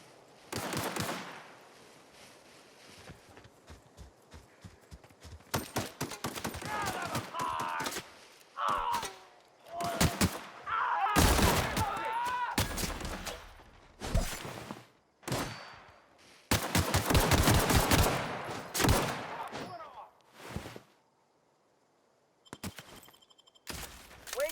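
Gunfire in The Outer Worlds video game: loud, close bursts of rapid shots and single blasts in irregular clusters, with short quiet gaps between exchanges.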